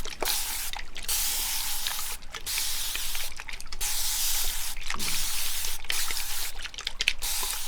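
Natural spring water spritzed onto a customer's face during a barbershop haircut and shave, heard as a series of short, close hissing spray bursts separated by brief pauses, with faint drips between them.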